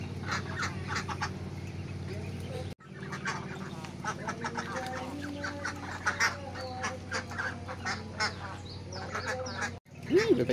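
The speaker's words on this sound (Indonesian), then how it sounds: "Bebeknya masih kecil-kecil tuh." Young ducklings of a laying duck breed, bought in a village in Kedungsri, peep and quack in a dense, continuous chorus close by, with brief pauses and people talking faintly underneath.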